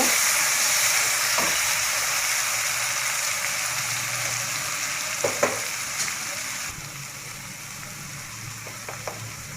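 Salt and ground turmeric with spices frying over low heat for a spicy beef bhuna curry, a steady close sizzle with occasional stirring scrapes, no talking.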